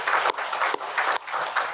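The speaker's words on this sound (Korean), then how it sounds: "박수 쳐요." A small group at a meditation practice hall claps in brief, rhythmic bursts, close and fairly loud, with short gaps between the clusters of hand claps.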